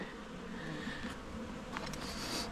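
Faint, steady buzzing from bees in a weak nuc hive under inspection, a soft insect drone close by with a few slightly brighter flickers near the end, no voices.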